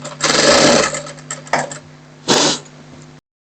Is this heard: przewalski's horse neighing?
no